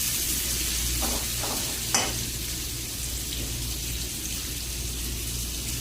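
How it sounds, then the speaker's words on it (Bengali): Onions with a little salt sizzle and fry in a pan, with a few quick stirring scrapes over a steady close-up crackle and no voices. "পেঁয়াজগুলো একটু ভালোভাবে মিক্স করে নেবেন।"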